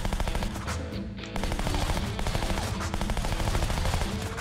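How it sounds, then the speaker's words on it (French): Uzi Rapid Rate submachine gun in the Shank video game fires in dense, rapid bursts, a loud continuous rattle with a brief pause near the start, over game music and effects. "Nouvelle arme, le Uzi Rapid Rate."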